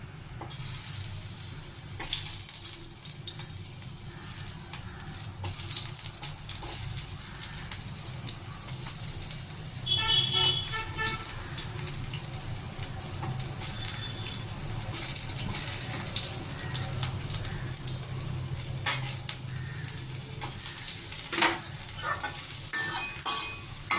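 Ginger sautéing in sesame oil in a pan: a steady, close hiss of frying with occasional stirring scrapes, continuous throughout and without speech.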